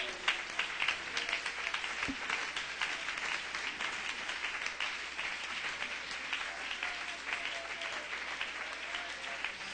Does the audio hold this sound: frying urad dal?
no